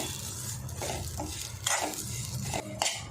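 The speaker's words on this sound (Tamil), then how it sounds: "சேர்த்து அவளோட இதை நல்லா மிக்ஸ் பண்ணிவிட்டு இது லோ ஃப்ளேம்லேயே இந்த தேங்காயோட பச்சை வசம் போகிற அளவுக்கு நம்ம நெய்யில் வறுத்துக்கலாம்" Fresh grated coconut being stirred and roasted in ghee over a low flame, with a steady soft scraping of a spoon against the pan, a low frying hiss, and a few clinks of metal, close by and without talk.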